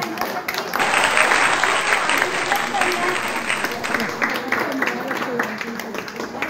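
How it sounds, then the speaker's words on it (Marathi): Sustained audience applause at a Marathi community gathering with a shared meal, swelling in after a brief pause and holding steady for several seconds, with voices faintly mixed in. "खूप सगळ्यांनी टाळ्या वाजवूयात आपण"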